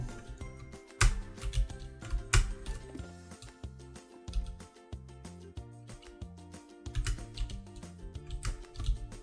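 Rapid clattering keystrokes on a computer keyboard, steady irregular clicks close to the mic, with a couple of harder key strikes standing out and almost no talking.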